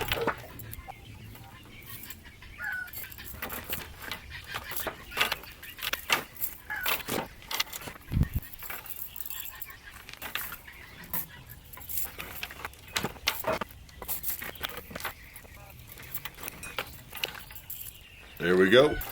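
Metal dog chains jangle and clink in irregular bursts while being handled, cut to length and hooked onto a carabiner for a chicken waterer cradle, with a person talking in between.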